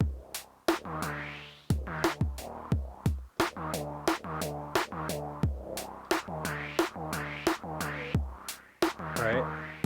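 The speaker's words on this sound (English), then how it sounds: "do a little roll stutter effect," DSI Tempest drum machine pattern with a roll stutter effect: punchy electronic kick and snare hits in a steady groove, with rapid repeated stuttering rolls of hits, upfront and alone.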